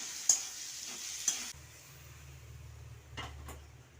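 Eggs stirred into a frying gravy for a Bengali egg and roasted mango curry, with a couple of sharp pan knocks before a lower steady sizzle and scraping stirs.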